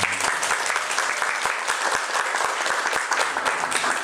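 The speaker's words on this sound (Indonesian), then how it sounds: "Tepuk tangan kita semua." Audience applause at an exit conference for a health centre accreditation survey, steady close clapping from a room of people, moderately quiet, with crisp individual hand claps standing out.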